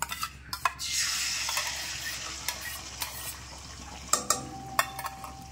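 Cracked duck eggs frying in a hot wok give a steady close sizzle, with a few sharp metallic clinks and scrapes of a utensil against the pan scattered throughout.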